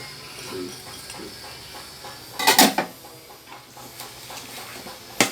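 Dill and spring onions are stirred in a metal cooking pot, with soft steamy hissing broken by a few sharp clanks and scrapes of the utensil against the pot.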